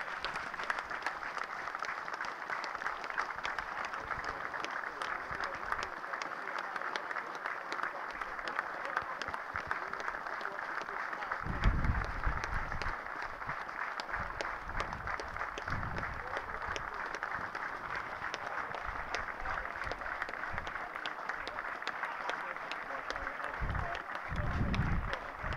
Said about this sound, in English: An impeccably observed minute's applause